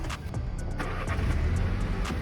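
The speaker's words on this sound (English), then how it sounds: "So, turn the car back on." A 2019 Mini Cooper S idling with its engine running, a steady low hum and rumble close by, with a few faint clicks over it and no talking.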